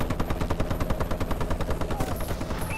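A Warbird's bombing run in Call of Duty: Advanced Warfare, a rapid steady pulse of heavy firing, about ten beats a second, loud and close, with whining aircraft tones near the end.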